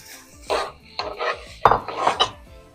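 A spoon clatters and scrapes against a pot as cooked mushrooms, onions and green pepper are stirred into spaghetti sauce, four or five separate close knocks and rubs with brief pauses between.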